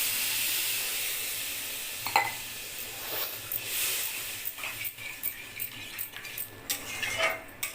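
Water goes into hot spiced oil in a pan, setting off a loud broad sizzle and steam hiss that settles into sputtering pops and crackles, with a few utensil clinks.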